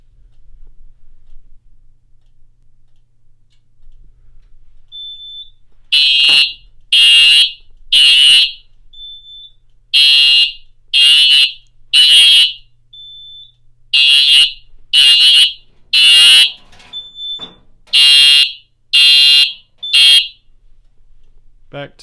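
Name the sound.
fire alarm system sounding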